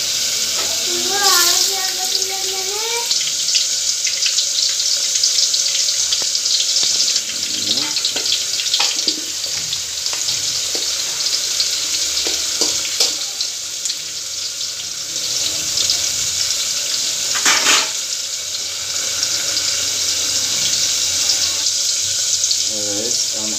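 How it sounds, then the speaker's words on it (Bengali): Onions fry in hot oil for a pangas fish curry, giving a steady, close sizzling hiss with occasional clatter and faint voices in the background. "তেলটা গরম হলে এরপরে আমরা পেঁয়াজ দিব। এখন পেঁয়াজ দিব আমরা।"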